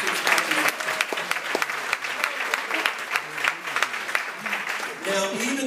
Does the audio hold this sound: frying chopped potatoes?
no